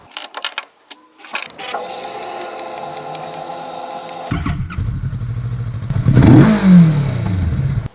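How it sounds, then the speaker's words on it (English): A motorbike engine captured on a GoPro mic starts with scattered clicks and knocks, then gives a harsh, buzzy steady run, followed by rising and falling revs that swell loudly near the end. "This is what my bike sounds like with a GoPro."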